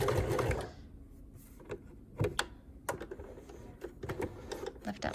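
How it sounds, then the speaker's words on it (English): A sewing machine back stitching a quilt, running in short bursts of rapid mechanical stitching with pauses between, close and fairly quiet. "I'm gonna back stitch."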